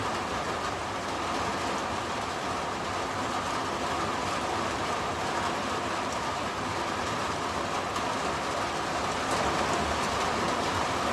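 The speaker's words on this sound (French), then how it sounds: "il commence à pleuvoir à torrent." Torrential thunderstorm rain in Grenoble roars in a dense, constant wash of noise, heavy and close, holding at full strength from start to finish with no voices.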